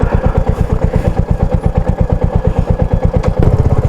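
A motorcycle engine idles close by with a loud, even, rapid thumping pulse, at a high-altitude stop near the world's highest post office.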